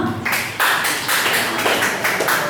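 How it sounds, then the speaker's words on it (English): An audience of students at a motivational session applauds, a dense burst of many hands clapping that starts abruptly and carries on steadily, fairly loud and close, with no talking over it. "A huge round of applause to Sushma."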